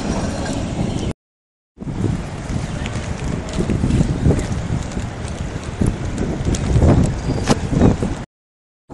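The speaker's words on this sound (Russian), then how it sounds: "Ветер, конечно, как и обещалось, очень сильный." Strong gusty wind off the North Sea buffets the microphone on a seafront promenade with loud, rumbling roars that rise and fall, briefly cutting out twice.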